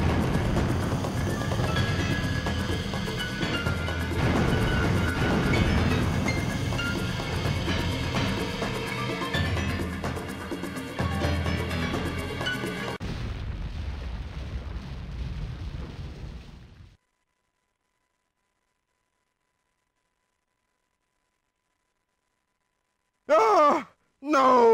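A missile launch in the video game Sonic Adventure is a long, loud, roaring rumble lasting many seconds, thinning out and cutting off into silence, then a short electronic game sound near the end.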